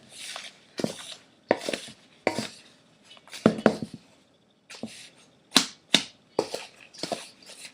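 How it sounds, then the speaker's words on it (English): Baking soda bath bomb mixture being stirred in a bowl produces close, irregular bursts of scraping and clinking strokes separated by short pauses, with no talking. "And you just want to stir it until it's well combined."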